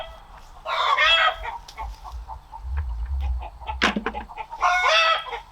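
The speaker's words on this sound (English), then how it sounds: "My chickens are very vocal today." Backyard chickens cluck and squawk in a lively, vocal burst, with a rooster-like call rising near the end, close and fairly loud against a low rumble outdoors in a garden.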